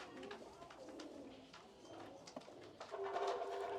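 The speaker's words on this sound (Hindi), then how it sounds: "ये तो वही कबूतर है भाई जी" A long-feathered pet pigeon perched on a bush gives soft, repeated cooing, faint and steady against a quiet background.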